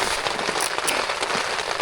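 Heavy rain from a rainstorm pours down steadily on a backpacking trip, a dense, continuous patter of drops striking a surface close by, with no talking.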